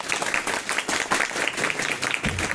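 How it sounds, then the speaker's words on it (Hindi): Audience applauding a young participant at a talk on air pollution's health effects, brisk clapping with pulsing rhythm, fairly close and loud, lasting a couple of seconds with a faint voice underneath. "थैंक यू सो मच बेटा, इनके लिए तालियां बजाएंगे।"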